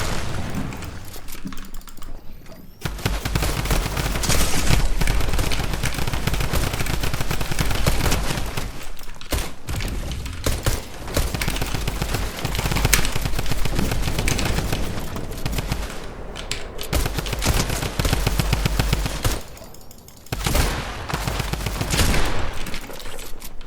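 Heavy bursts of video-game machine-gun fire with a few short pauses between volleys, and keyboard clatter mixed underneath.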